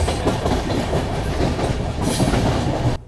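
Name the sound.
Pawan Express train speeding up on the Kasara ghat section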